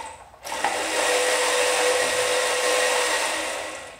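A Razor E100 electric scooter motor starts after a push and then runs with a steady high-pitched whine and hum, close and continuous for several seconds before it eases off slightly.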